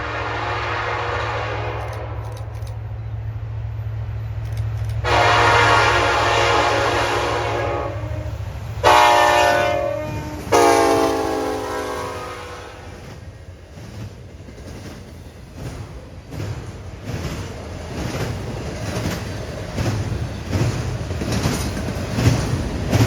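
A Norfolk Southern freight train led by unit 1000 sounds its horn in several long, loud blasts. The wagons then rumble past with a rhythmic clickety-clack of wheels on rail joints.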